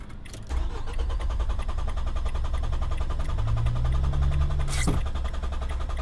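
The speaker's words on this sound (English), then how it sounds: "now I can't get the vehicle to start again" A diesel van engine cranks steadily for several seconds after stalling, the starter droning on without the motor catching, then cuts off.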